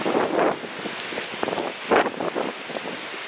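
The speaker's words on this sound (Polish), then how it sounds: "pokazać wam sztorm na naszej pięknej promenadzie" Storm Ciara on the Isle of Man brings gusty wind buffeting the microphone on a seaside promenade, rushing surges of wind and surf rising and falling in loud waves with no voices.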